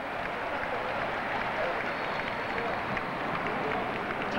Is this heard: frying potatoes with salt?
no